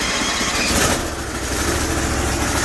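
A 20 hp Bolens 1600H Hydro garden tractor engine cold-starts on choke and settles into a loud, steady idle close by, with no one talking.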